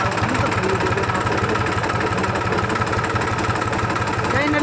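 An overheated Mahindra 265 tractor engine running close by, a loud, steady, rhythmic diesel chugging with a knocking beat that continues throughout.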